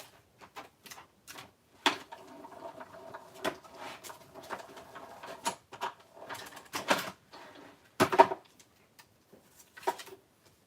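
A craft cutting machine working through a sheet of paper, giving irregular clicks, taps and short mechanical bursts with brief whirring between them, fairly close and quiet.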